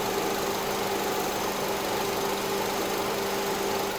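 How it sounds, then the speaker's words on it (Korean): A 2018 Renault Samsung SM5 Nova LPI's four-cylinder LPG engine idles at a smooth, even hum with a faint mechanical whine, continuous and unchanging, heard up close with no voices. "엔진 소음 들려드리면"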